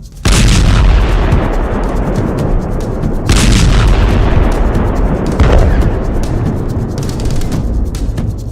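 Artillery shells fire in Gaza, heavy booming blasts rolling through a sustained loud rumble, with a few sharper detonations standing out over the continuous roar.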